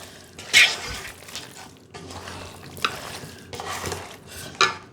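Raw bone-in meat being kneaded and mashed by hand in a pot or bowl until soft, with wet squelching and occasional clinks of bone against the metal, in irregular close-up bursts.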